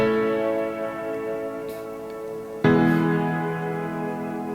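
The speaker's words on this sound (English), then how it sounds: "So I'll solo that piano so you can hear it a little better." Soloed Relic Upright piano plugin from Hammers and Waves in a folk-rock arrangement, sustained chords decaying softly, then a fresh chord struck near the end, played alone.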